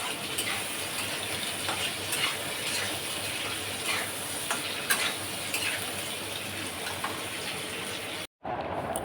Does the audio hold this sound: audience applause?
no